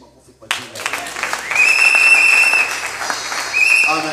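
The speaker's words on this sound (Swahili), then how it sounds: "Pigeni Yesu makofi kwa jina." A church congregation bursts into loud, close applause after a brief quiet start, a dense clatter of many hands with a sustained high tone and voices mixed in behind it.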